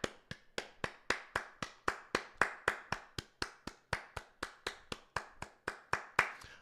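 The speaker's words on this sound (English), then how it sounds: "let's clap it up" One person claps hands in a steady, even rhythm of about twenty sharp, close claps, alone without talk.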